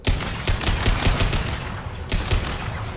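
Overridden turret in Mass Effect 2 firing rapid, loud automatic bursts, with several clustered volleys of gunfire across the few seconds and no talk.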